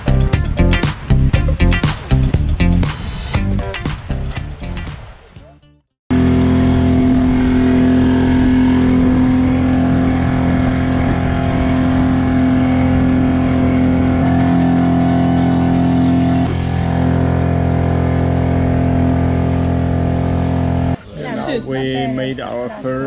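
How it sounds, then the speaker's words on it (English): An outboard motor on a Ducky 19 inflatable sailing catamaran runs loudly with a steady drone for a long stretch, with a burst of other noise before it starts and as it ends. "Sailing trip with the outboard engine"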